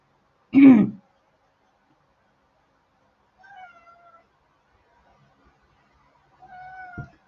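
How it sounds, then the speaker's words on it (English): A domestic cat gives one short, loud, close meow, then two fainter, drawn-out calls follow after long silent pauses. "That's my cat, Zeus."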